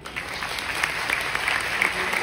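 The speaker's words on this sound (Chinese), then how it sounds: "值不值得一个掌声？" Audience applause in a hall during a talk on a business-sharing stage, steady clapping from many hands across the whole moment, fairly close and full, with no talking over it.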